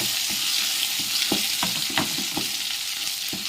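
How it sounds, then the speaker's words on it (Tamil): Thuthuvalai chutney paste sautés in oil in a pan, giving a steady close sizzle broken by short scraping stirs. "போட்டுட்டு நல்லா எண்ணெய் பிரிகிற வரைக்கும் வதக்குங்க"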